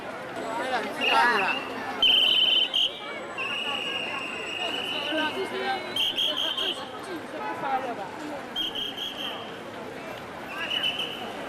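A traffic coordinator blows a whistle at a packed pedestrian crossing in Nanjing, sharp shrill blasts repeating over several seconds above a dense hubbub of crowd chatter and footsteps, with a voice talking nearby.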